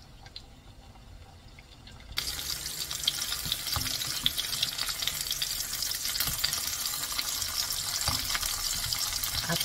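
Cabbage dumplings fry in a pan over medium-low heat, a loud crackling sizzle that suddenly bursts in after a quiet start and continues with steady popping spatters.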